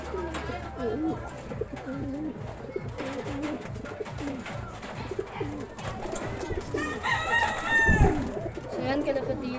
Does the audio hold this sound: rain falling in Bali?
no